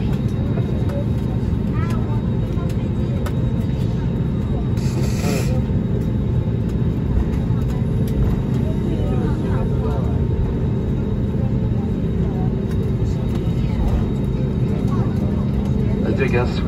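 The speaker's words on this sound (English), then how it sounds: "We are pleased to inform you that we have landed" The steady, loud cabin rumble of an airliner that has just landed at Velana International Airport in the Maldives, droning throughout while a voice makes a public-address announcement over it.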